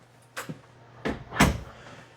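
Small bathroom door in a 2024 Avenir 29RK camping trailer, a few close, light knocks and clicks of the door and its latch swinging shut in a quiet interior.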